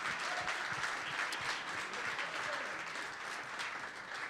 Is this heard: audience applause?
yes